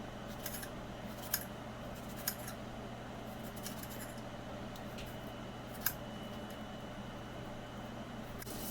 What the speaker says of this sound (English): as I keep cutting up these onions